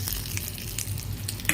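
Curry leaves crackle and sizzle in hot oil while tempering for a bottle gourd chutney, with a steady frying hiss, soft stirring scrapes and a sharper spatter near the end, close and alone without talk.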